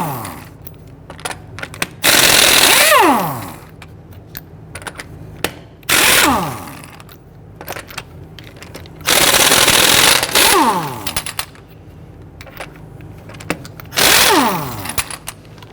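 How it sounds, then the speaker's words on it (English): Loud, long bursts of a 19mm socket on an impact tool zip lug nuts off a rear wheel of a 2010-2019 Ford Taurus, four separate runs spaced by quieter gaps of handling and clinks. "Using a 19mm socket, loosen and remove the lug nuts."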